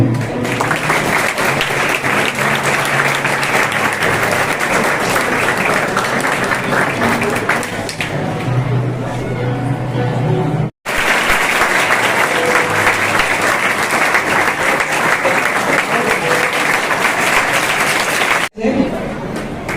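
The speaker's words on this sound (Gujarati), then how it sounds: "તાળીઓથી વધાવીશું મિત્રો." Loud, sustained applause from a school audience welcoming an honoured guest at a Class 10 and 12 farewell ceremony, with steady crowd clapping that breaks off briefly twice and carries some chatter underneath.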